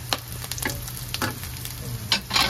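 Chopped onions sautéing without oil in a pan for string beans adobo, with soft sizzling and several sharp scraping stir strokes of a utensil against the pan, no talking.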